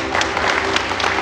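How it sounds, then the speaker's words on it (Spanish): Wedding guests break into dense, steady applause right after the vows, a brief burst of many hands clapping together, loud and close. "Denle un aplauso."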